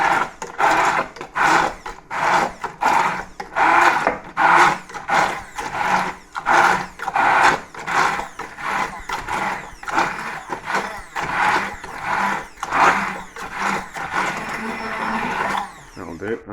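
A blender purees risotto ingredients, heard as a loud, close motor whir pulsing in rapid, uneven bursts as the contents churn, cutting off just before the end.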